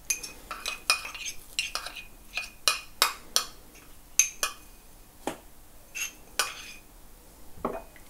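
Raw dessert ingredients are mixed in a bowl, and a utensil clinks and knocks against the sides in sharp, irregular strikes with short pauses between them.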